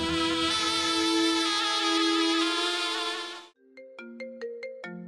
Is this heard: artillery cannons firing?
no